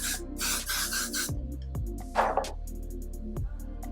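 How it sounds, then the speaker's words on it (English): A short hiss of aerosol hair spray bursts once near the middle, over a steady low mechanical hum and some rustling handling noise. "I'm going to spray this because I actually want this hairstyle to last a little long"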